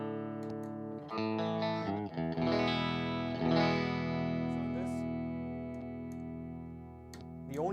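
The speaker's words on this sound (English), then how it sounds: "I just give you a touch of reverb" Distorted electric guitar chords and sustained notes ring out with a reverberant wash, strummed in a few separate phrases, fairly loud and close.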